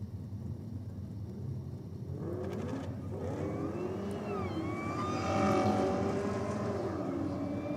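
Drag racing cars, including a red Commodore with a supercharged LS, rev on the start line at a championship meet, a rising engine whir that swells and peaks partway through, loud and steady.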